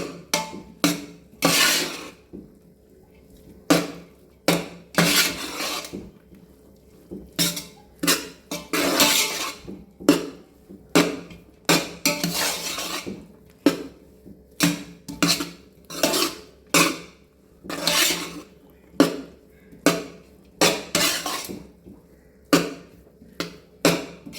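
A spoon stirs tomato rice with ghee in a metal pot, making repeated close scraping and clinking strokes in an uneven rhythm. No one talks.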